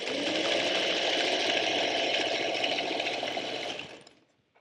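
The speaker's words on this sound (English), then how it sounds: "we're going to stitch on that line or right next to it." A sewing machine stitches quilting fabric, held right sides together, along a drawn line, running as one steady close whirring hum for about four seconds before winding down to a stop.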